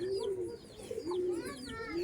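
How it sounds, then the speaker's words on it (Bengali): Pigeons cooing at a racing-pigeon loft, repeated soft low rolling coos close by, with faint higher chirps in the background. "ব্যাপক লাগছে পায়রা দেখুন"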